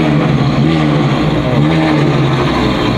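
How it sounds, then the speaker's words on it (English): Ferrari FF V12 engine revving nearby, a loud sustained low growl with a steady droning tone that holds for the whole moment without any talk. "V12 from the Ferrari FF back there making some noise"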